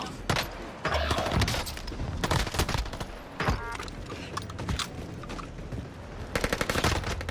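Rapid bursts of MP40 submachine gun fire in the Warzone video game, sharp and close, in several separate volleys with brief pauses and clanking weapon mechanics between them.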